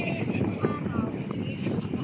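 Steady rushing wind buffets the microphone throughout at a beach in Calamba, Laguna, with faint indistinct voices mixed in the background.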